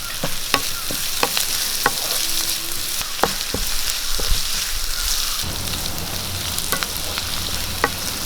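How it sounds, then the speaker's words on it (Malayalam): Chopped green chillies fry in a hot pan, giving a steady loud sizzle with scattered sharp crackles and pops throughout and no voices. "നമ്മൾ അരിഞ്ഞു വെച്ച പച്ചമുളക് ഇട്ട് കൊടുക്കാം"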